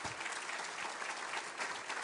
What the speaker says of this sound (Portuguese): Realmente uma salva de palmas grande